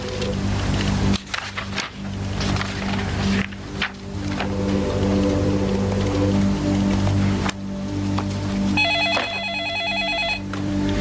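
A telephone bell rings in a short patterned burst near the end, over a steady low hum and murmuring background, in a 1993 French-dubbed film scene.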